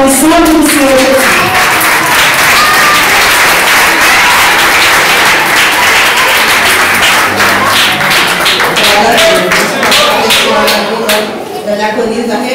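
A church congregation applauds, a loud, close burst of clapping that starts with a few voices over it and thins into sparser, distinct claps by the end.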